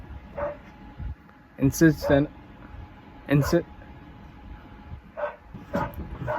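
Dogs bark in short, loud bursts, several sharp woofs scattered between stretches of a person speaking close to the microphone.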